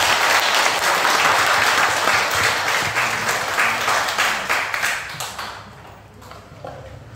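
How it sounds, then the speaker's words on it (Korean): A room full of people applauds loudly at the close of a lecture at a branch anniversary monthly meeting, the clapping steady at first, then thinning and fading out over the last couple of seconds. "다시 한번 큰 박수 부탁드리겠습니다."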